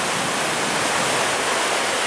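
Loud, steady roar of water rushing over a river spillway on the Delta River in Alaska, a dense unbroken wash heard up close with no pauses.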